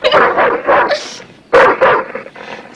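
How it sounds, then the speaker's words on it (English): A dog named Bismarck whimpers and lets out short, high yips in two bursts, loud and close, with a tense, distressed edge and no voices over it. "It's a good dog. It's a good boy."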